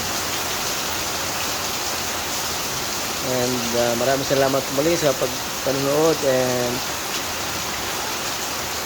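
Steady rain without strong wind hisses throughout during a power outage, a dense even wash, while a person speaks briefly in the middle over it.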